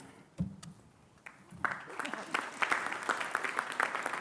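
A crowd breaks into applause that builds from scattered claps into steady, sustained clapping, fairly close and lively.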